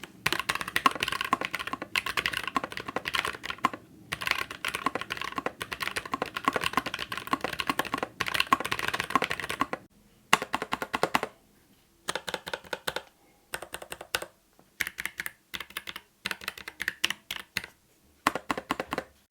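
Rapid typing on a Keychron K3 Pro mechanical keyboard with brown switches: loud, crisp close-up clacks in dense runs, then choppier bursts separated by short silences.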